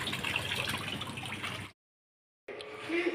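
Water running for a children's bath at home, a steady splashing flow that cuts out for a moment then resumes, moderately close and without talk.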